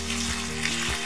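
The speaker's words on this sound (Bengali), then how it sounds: "মশলাটা এক মিনিটের জন্য মিডিয়াম ফ্লেমে একটু ভাজা ভাজা করে নিতে হবে" Spice masala frying in oil over a medium flame gives a close, steady sizzle, with a low hum running underneath.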